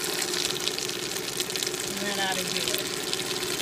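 A food processor runs steadily, blending an herb and feta cheese spread with a little added water, its motor drone continuous beneath someone speaking briefly nearby.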